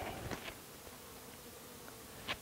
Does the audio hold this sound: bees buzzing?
yes